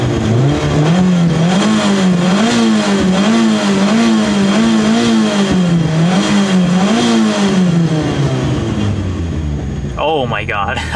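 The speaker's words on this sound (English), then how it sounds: "Give it a few revs." The engine of a Mitsubishi Evo wagon revs loud and close, rising and falling in repeated surges with a rough, throbbing tone, before dropping back near the end as other noise enters.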